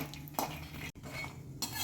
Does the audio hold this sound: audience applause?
no